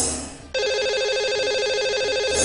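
Telephone ringing for a caller on a live broadcast show: after a brief fade, a loud electronic trilling ring starts abruptly and pulses steadily to the end.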